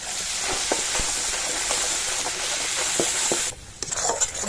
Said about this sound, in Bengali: মশলাটা খানিকক্ষণ কষিয়ে নেব।